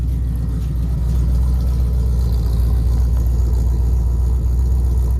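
A 1951 Ford shoebox car engine idles steadily after a cold start, a loud, close, even low rumble with a fast regular pulse that holds unchanged throughout, with no talking.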